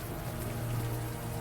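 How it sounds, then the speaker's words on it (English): Rain falling in the video game Unavowed, a steady, fairly soft patter of warm rain with a low droning hum beneath it and no voices. "the warm rain is coming down"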